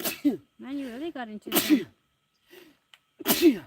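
Two or three sharp sneezes burst out between bits of nearby conversation, each a loud, noisy blast with a voiced edge.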